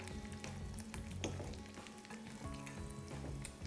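An egg fries in hot oil while it is basted, a steady soft sizzle with light crackles and stirring scrapes, close and fairly quiet, with no talking.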